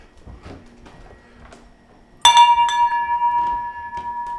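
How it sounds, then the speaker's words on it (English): A shop's bell rings once in a small downtown marketplace, striking sharply and then leaving a bright metallic ring that sustains and slowly fades, after a few quiet shuffling sounds. "I get to ring the bell."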